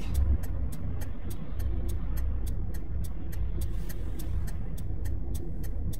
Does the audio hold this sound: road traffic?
yes